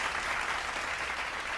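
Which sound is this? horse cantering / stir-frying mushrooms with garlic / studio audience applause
studio audience applause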